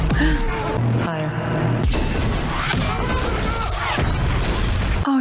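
A missile strike in the film Blade Runner 2049 sets off loud, dense booms and crashing blasts that overlap in a chaotic barrage, with no quiet gaps.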